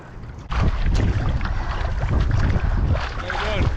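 Wind buffeting a microphone on a lake during stand-up paddleboarding, loud continuous low rumble and gusts with water and board noise, and voices faintly mixed in.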